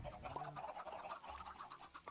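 Chicken clucks and soft fowl calls in Minecraft as a hen lays an egg, a run of short, close, repeated squawky notes over light background game noise.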